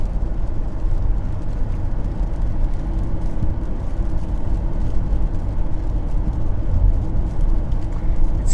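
Steady motorway traffic moving slowly on a UK motorway with the hard shoulder open, heard from inside a car as a continuous broadband road rumble and tyre roar, even and unbroken throughout, with no talk.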